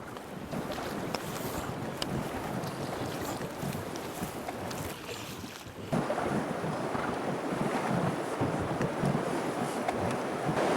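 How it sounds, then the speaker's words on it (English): An inflatable raft rides rough river rapids in Punakha, with rushing, churning water and heavy wind buffeting close by, growing louder and more turbulent midway through, with no voices. "It's a bit rough water. I think they call it rapids."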